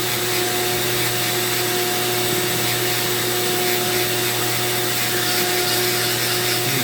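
A Dremel rotary tool with a carving burr whines steadily and loudly while grinding into manzanita wood, a continuous high-pitched motor drone with no breaks.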